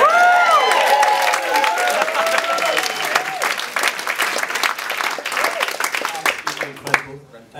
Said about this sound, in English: A round of applause for Pippa for all the bunting.